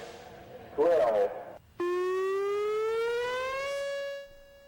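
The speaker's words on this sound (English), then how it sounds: "completed testing its 15 all-hazard alert warning system sirens" A civil defense all-hazard warning siren sounds during a test of Guam's alert system, a loud sustained wail that begins abruptly and slowly rises in pitch, following a brief burst of voice beforehand.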